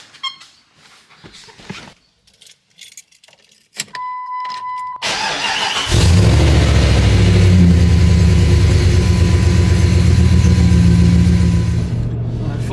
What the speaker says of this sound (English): Now we'll get a cold start on this thing.